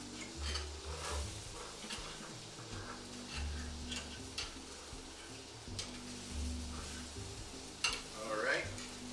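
An egg fries in a flimsy pan for a sausage, egg and cheese breakfast sandwich. A soft, low sizzle runs throughout, with occasional light clicks and taps of a utensil against the pan.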